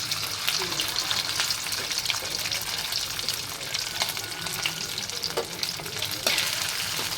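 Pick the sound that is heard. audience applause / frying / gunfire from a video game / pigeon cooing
frying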